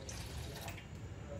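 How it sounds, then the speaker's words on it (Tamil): Water is poured into unboiled milk in a pan on a stove while making Chettinad kalkandu sadam, a steady, low, gurgling flow under soft background noise, fairly quiet and continuous. "அதோட தண்ணியையும் சேர்த்துக்குவோம்"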